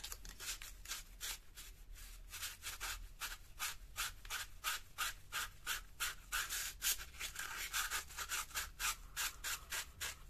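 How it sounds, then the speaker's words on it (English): Sandpaper rubs back and forth over a handmade lightsaber handle in quick, even strokes, close and fairly quiet, with no voices. "I think I'm going to give that a quick sand"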